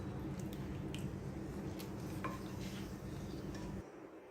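Beef curry with water added gets stirred in a pot: a continuous wet, sloshing scrape with a few light clinks of a utensil, close and fairly quiet, fading near the end.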